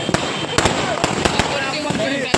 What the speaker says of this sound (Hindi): क्रैकर चलाए जा रहे हैं